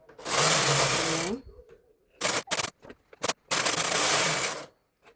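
A punch card knitting machine knitting rows of green yarn for a newborn dress, with long whirring carriage passes at the start and end and short clacks and bursts between them, close and clear.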